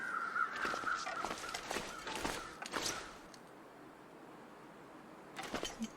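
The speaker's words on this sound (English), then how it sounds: "Crows." Crows caw repeatedly in the video game The Long Dark, a loose series of harsh calls over a steady outdoor wind, fading out and then returning briefly at the end.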